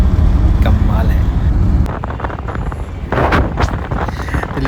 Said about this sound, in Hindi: मैं हवा का मज़ा लेते हुए, और बहुत बढ़िया हवा चल रही है